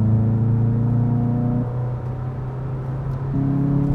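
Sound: 2022 VW Jetta GLI engine sound, artificially enhanced in cabin

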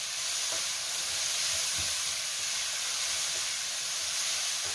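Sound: mushrooms added and stir-fried in a pan

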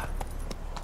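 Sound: horse hooves in The Witcher 3 video game

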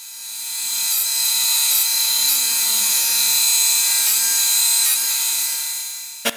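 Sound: surface grinder cleaning up a parted-off metal face

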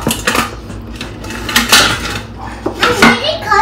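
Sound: stirring agar-agar in a pot of boiling water

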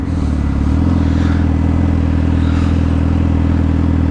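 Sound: Suzuki SRAD 750 motorcycle engine revving

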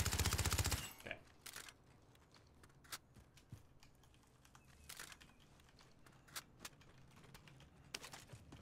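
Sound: gunfire in the video game Call of Duty Warzone

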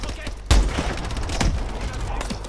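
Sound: suppressive gunfire in the video game Call of Duty: Advanced Warfare

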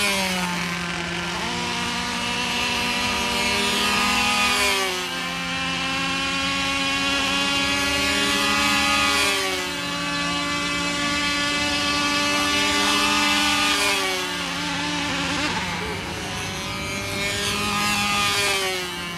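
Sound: boat engine running

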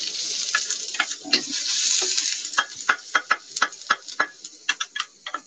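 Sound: ginger frying in hot oil

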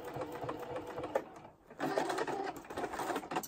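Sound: sewing machine quilting a large pineapple artwork

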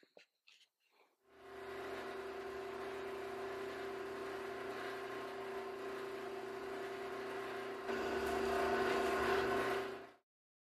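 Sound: drill drilling holes in oak boards for a steam box

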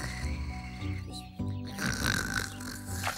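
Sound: cartoon character snoring

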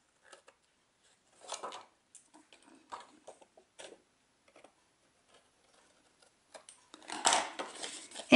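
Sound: snips cutting off excess ribbon

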